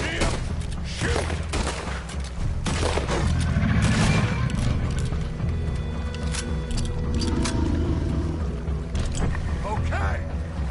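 Gunfire in Red Dead Redemption 2 during a boat hunt, repeated sharp shots and bursts over creaking and splashing water, with voices talking throughout.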